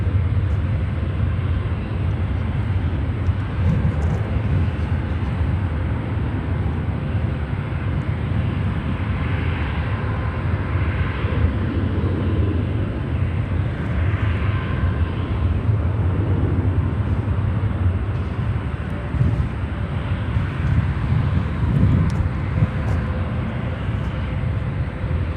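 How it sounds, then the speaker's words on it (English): A Japan Airlines Boeing 777-300 wide-body jet rumbles on at an airport with a steady, broad roar that swells and eases over about twenty-five seconds, distant and continuous. "Let's enjoy the Japan Airlines, the Jaybird 777-300, as her days are numbered."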